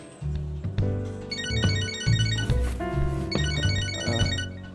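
A melodic phone ringtone from the video game Catherine: Full Body repeats a bright tinkling phrase several times over a steady synth backing, loud and clear with no talking.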